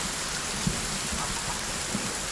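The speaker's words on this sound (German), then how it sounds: "ist der Regen laut" Heavy rain pouring in the Sons of the Forest game, a steady dense hiss of drops with no pauses, loud and close.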